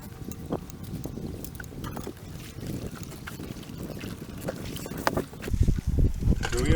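A fishing boat motors across Lake Ontario, its engine a low steady drone mixed with wind buffeting and water splashing against the hull, and someone speaks briefly over it.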